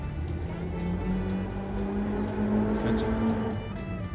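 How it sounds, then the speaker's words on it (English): Ford Excursion with a V10 engine driving past on a nearby road, a steady low engine rumble and road roar that swells slightly and holds throughout, moderately loud. "That noise you hear is brought to you by a V10 Excursion."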